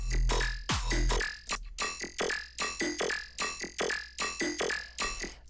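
Choppy, pulsing electronic bass tones repeating in a steady rhythm, loud and distorted with gritty, stuttering texture and no voices.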